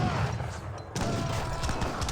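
Gatling guns in Age of Empires 3 fire in a dense, continuous rattle of rapid shots, loud and sustained apart from a brief dip before the volley resumes.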